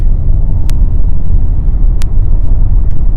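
A BMW M5 with an SMG III gearbox accelerates through the gears, a loud, deep engine rumble close to the car, broken by sharp clicks at each gear change.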